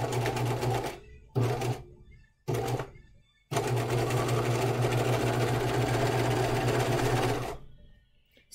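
A sewing machine stitches a hanten jacket mockup up close in loud mechanical bursts: three short runs with pauses between them, then one long steady run before it stops.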